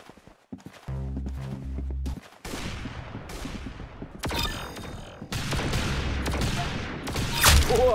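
Gunfire from Roblox Arsenal comes in fast bursts of sharp shots, mixed with footsteps and other game effects. It gets denser and louder toward the end, with no voices over it.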